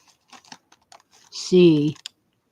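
Keys on a computer keyboard tapped in short, sparse clicks, close and fairly quiet, with a brief burst of speech in the middle.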